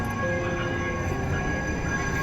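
A train arrives at a station in the United States, on a line shared by metro, road and rail traffic, with a steady loud rumble and rolling wheel noise and a faint high tonal whine.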